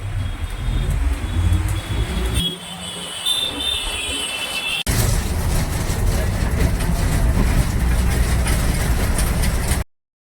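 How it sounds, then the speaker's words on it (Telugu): Dense city traffic in Pune heard from inside an ordinary bus on a Nashik to Pune run, with a loud steady engine rumble and road roar, traffic noise around, and a voice talking over it. "అయితే పూణేకి అయితే ఎంటర్ అయిపోయామండి చూసుకోవచ్చు ఫుల్ ట్రాఫిక్ అనమాట ఇదంతా"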